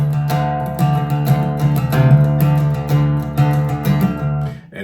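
Acoustic guitar plays a song intro in drop D, strummed open without percussive muting: ringing sustained chords with a steady rhythmic pulse, close and fairly loud, fading at the end.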